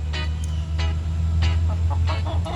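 Chickens pecking at lettuce cluck in short, scattered bursts over a steady low hum, close by, with no talking.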